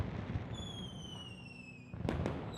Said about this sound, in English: Those don't quite sound like fireworks. It sounds like they're being air raided.